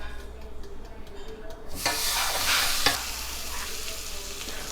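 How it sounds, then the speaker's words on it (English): Steak being placed into a preheated air fryer: a quiet background sound, then a sudden loud sizzle that holds for a moment with a clunk, before settling into a steady hiss. "Now it's time to stick our steak in the air fryer."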